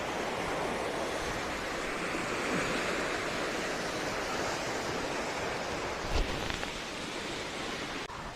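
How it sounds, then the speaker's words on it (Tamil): Water rushes through an opened sluice gate at Kodiveri dam near Erode, a steady, loud broadband roar that holds constant throughout, with no voices. "இங்கே ஓப்பன் பண்ணுறோம்,"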